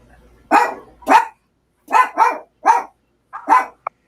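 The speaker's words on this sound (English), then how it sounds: "Now I've got my dog started." A dog barking in a series of about seven sharp, loud, close barks at an irregular rhythm, ending with a brief high yip, with no talk over it.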